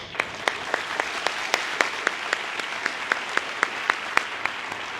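Applause rises from the crowd at a high school class of 2019 graduation ceremony, a broad steady clatter of clapping with a few sharp, louder individual claps standing out in a rough rhythm.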